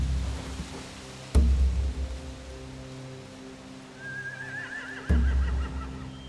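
A horse whinnies once in a long, wavering call in The Walking Dead: The Final Season game, framed by two sudden low thuds and a soft steady rain-like background.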